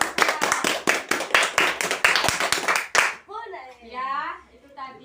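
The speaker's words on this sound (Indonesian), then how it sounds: "Kasih aplaus buat Mbak Nisa." A classroom group claps for a student named Nisa: a burst of quick, fairly loud handclaps lasting about three seconds, then a voice speaks alone.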